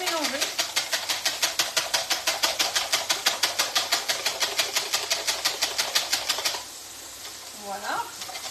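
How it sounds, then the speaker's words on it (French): A whisk beating three eggs in a bowl, a fast, steady rhythmic clatter of rapid strokes that runs for several seconds and then stops, leaving quiet room noise and a brief voice. "on va se prendre le fouet pour frotter tout ça, pour que ça soit bien"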